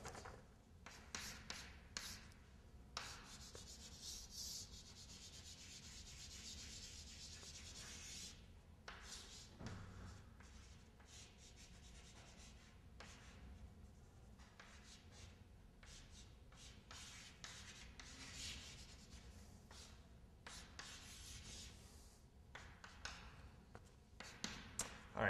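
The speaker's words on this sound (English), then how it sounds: "So let me draw up exactly what this circuit looks like." A hand draws a circuit diagram with pen on paper, making steady, faint scratching strokes that continue for a long stretch, close up, with short taps and pauses between lines.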